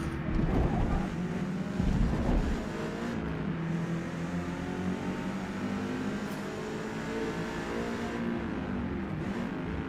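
A damaged race car engine in Forza Motorsport drones at moderate volume with a couple of rougher surges early on, then settles into a steady hum.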